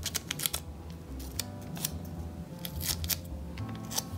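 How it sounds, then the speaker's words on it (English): Adhesive tape is pulled and folded over itself for a paper plate craft, producing a series of short crisp crackles and sticky rips at irregular intervals, close to the mic against a quiet room background. "get a little bit of tape . Fold the tape over itself."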